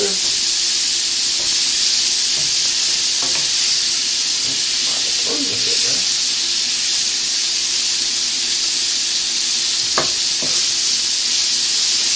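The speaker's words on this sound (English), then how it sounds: "we're just going to mash our mince like so" Minced meat mashed and fried in a pan for spaghetti bolognese gives a loud, constant hissing sizzle, with faint scraping and clinking of the utensil pressing the mince, close up and without speech.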